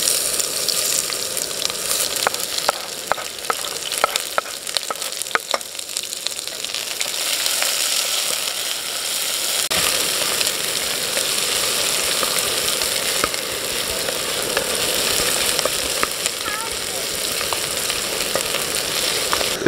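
Onion with cinnamon, cloves, peppercorns and bay leaf frying in oil and ghee for a vegetable pulao, a loud, dense crackling sizzle throughout with sharp pops early on, no voices.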